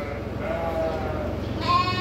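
A village sheep bleats close by in a long wavering cry, with a second bleat rising near the end over rough background noise.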